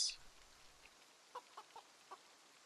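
A few short chicken clucks sound at scattered intervals inside a base in the survival game Project Zomboid, faint and sparse over a quiet background.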